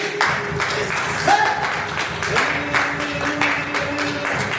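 Church congregation ululating with high trilling voices and clapping together, a dense, steady wash of applause and cheering that fills the room throughout.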